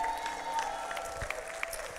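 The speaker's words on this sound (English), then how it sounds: "Clap up for Shayla, y'all." A church congregation claps for a woman standing at the front, with steady applause spread evenly across the room at moderate loudness.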